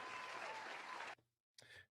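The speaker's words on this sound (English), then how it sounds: "Did you hear the applause?" Applause sound effect: a steady burst of clapping that cuts off abruptly, followed by a short silence and a second, briefer clip of clapping that fades out.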